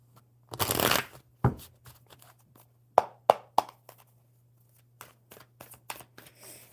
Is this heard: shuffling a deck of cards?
yes